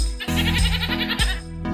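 Goat bleating in a short children's vocabulary lesson: a few loud, wavering bleats close up, each lasting a fraction of a second with brief breaks between, and no talk over them.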